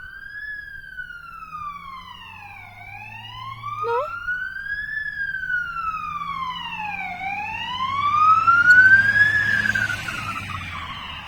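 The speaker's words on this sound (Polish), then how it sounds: "I jedzie pogotowie." Wailing ambulance siren from a passing vehicle in Poland, rising and falling in slow sweeps over traffic rumble, growing louder as it draws nearer, with no talk.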